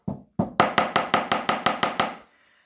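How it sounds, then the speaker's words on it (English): A wire loop is flattened on a metal block for a wirework rose necklace, starting with two duller knocks and then eight crisp, ringing hammer taps in quick, even succession, alone and close. "I'm now going to hammer this loop here"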